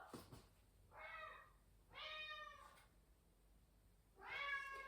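A house cat meows three times in a garden, each call drawn out and spaced about a second apart, quiet and fairly close, with no one speaking.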